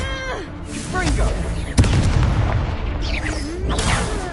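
Blast of the Confringo fire spell in Hogwarts Legacy, a sharp booming hit landing mid-clip within a loud, busy duel soundscape, with a voice shouting spell names and swooping magical effects around it.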